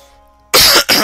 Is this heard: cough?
yes